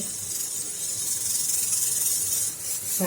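Second pressure cooker whistle during vegetable biryani cooking, a continuous loud steam hiss that fills the whole stretch, steady and close, with a slight dip near the end.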